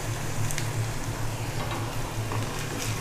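Garlic frying in oil in a pan for a ridge gourd curry gives a steady close sizzle and crackle throughout, with a low hum beneath and no talking.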